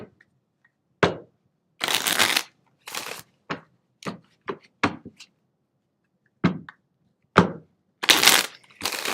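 A deck of tarot cards is shuffled in a series of separate crisp bursts and riffles, some short snaps and some longer rushes, close and loud against silence with no talk.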